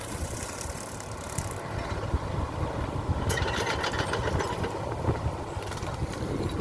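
A Kubota KX91-3 mini excavator with a grass cutter attachment runs steadily with a rough mechanical rumble, joined partway through by a louder whirring and clattering as the cutter works.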